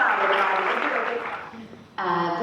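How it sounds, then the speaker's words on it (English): Audience applause at a breast health talk, a dense, steady clatter of many hands clapping that thins toward the end before a brief shift in tone. "Let's give her a round of applause."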